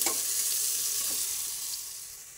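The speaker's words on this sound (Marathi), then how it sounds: "कांदा तांबूस कलरवर परतून द्यायचा" Onion fries in a pan for pulao, a bright close sizzle with a couple of stirring scrapes, slowly fading a little, with no talking.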